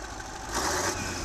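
A 16.2-liter straight-eight diesel locomotive engine rated at 265 kilowatts runs on a test stand, producing a loud, steady, rumbling drone that swells slightly midway.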